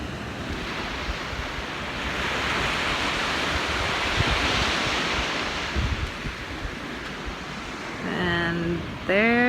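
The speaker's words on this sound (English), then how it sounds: "Look at this beach." Surf washes onto a beach on Catalina Island as a broad, steady roar of breaking waves mixed with wind buffeting the microphone, and a voice speaks briefly near the end.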